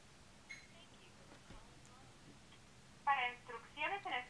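A telephone call rings out on speakerphone through a VoIP app, with faint tones early on, then a loud warbling ring burst followed by two shorter repeats near the end, heard up close.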